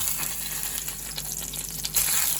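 A salmon fillet with a habanero lime pistachio crust sizzles in a frying pan as butter goes in, a loud, continuous close-up crackle that swells slightly near the end.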